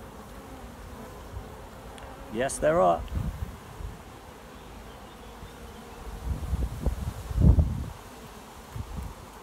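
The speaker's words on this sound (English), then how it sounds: "In this hive there's a lot of bloody bees." Honey bees in an open hive give off a steady low buzz throughout, with someone speaking briefly and some handling rustles and bumps nearby.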